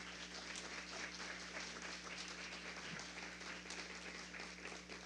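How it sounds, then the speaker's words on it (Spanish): Audience applause greets the Puerto Rico Secretary of Agriculture at a university talk on food security, a steady, fairly faint wash of clapping over a constant low hum, with no talk. "Recibámosla con un fuerte aplauso."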